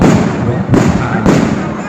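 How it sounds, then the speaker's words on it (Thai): Fireworks and rockets set off at a Buddhist temple cremation ceremony in Udon Thani, Thailand, give loud, close booming bursts, three in quick succession, over a dense crowd din with a voice faintly underneath. "วันนี้ชนะชัยก็แถมกองพลุแถมตะไล มาอีกด้วย"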